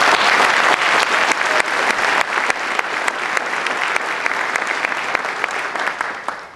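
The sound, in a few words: audience applause at council inauguration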